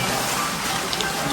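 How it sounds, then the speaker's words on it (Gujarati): Steady rain at Kadamgiri near Girnar in Gujarat, a dense, even hiss of drops filling the whole moment with no break, loud and close, with no clear voice above it. "વરસાદ આવી ગયો છે અહીંયા અત્યારે"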